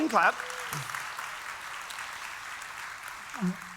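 Church congregation applauding during a Sunday morning service, a broad wash of clapping from a large crowd filling the room under brief bits of voice at the start and end.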